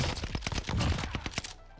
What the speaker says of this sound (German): man hört einiges an Schüssen